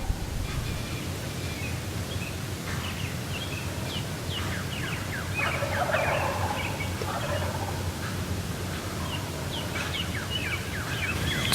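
Wild turkeys on the roost at dawn gobble repeatedly about 70 yards away, two birds calling in bursts over steady outdoor background noise.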